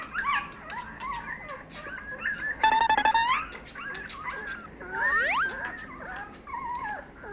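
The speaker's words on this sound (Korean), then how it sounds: "먼저 강아지들 울음소리를 태식이한테 들려봐 줄게요" Recorded small dogs whimper and yelp in a string of high, wavering cries, with a short burst of chirpy whines in the middle, slightly tinny like playback.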